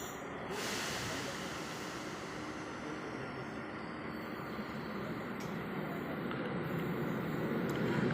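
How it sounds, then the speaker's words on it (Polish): Steady, loud rumble of a train arriving at a station in the Czech Republic, with hiss and rattling of cars building slightly toward the end; no talk. "Wjeżdża pociąg"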